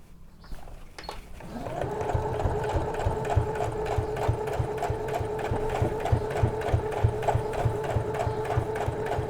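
Sewing machine stitching a retention seam on a shirt collar, starting up after a click and settling into a steady, fast rhythmic chatter close by.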